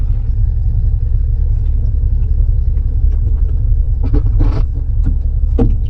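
A Chevrolet Corvette C7 with its top off rumbles steadily while being driven, a loud deep engine drone close by, broken by a few brief knocks and rattles near the end.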